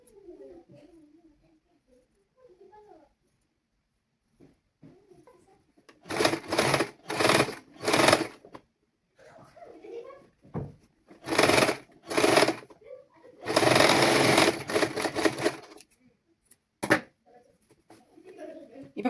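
A sewing machine stitches the neck of a children's garment in several loud bursts of rapid mechanical whirring, separated by pauses, with someone talking quietly before and between runs.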